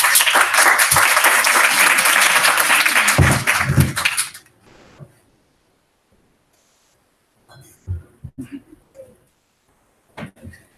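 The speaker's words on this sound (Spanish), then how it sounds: "Les pido un fuerte aplauso, por favor." Audience at an academic youth-policy colloquium at UNAM applauds loudly and steadily for about four seconds, then the clapping fades out; a few faint bumps and shuffles follow in the quiet.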